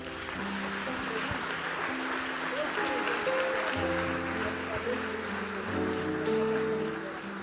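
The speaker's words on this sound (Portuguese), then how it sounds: "Dê um aplauso ao Senhor." Church congregation clapping during an evening worship service, a steady wash of applause held at moderate distance, with sustained musical tones and faint voices beneath it.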